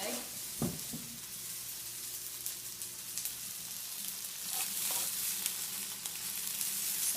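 Noodles sizzle on a hot griddle atop an egg for okonomiyaki, a steady, hissing fry with a few soft utensil knocks near the start.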